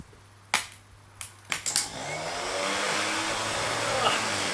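A Land Rover Series starter motor, removed and wired directly to battery leads, gives a few sharp clicks as the connections are made, then spins up into a steady whirring hum that holds on alone.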